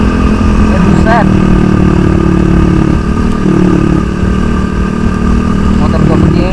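A motorcycle running low on fuel while riding a steep mountain route near Malang, with a steady loud engine drone throughout and brief pitch rises; a person talks over it.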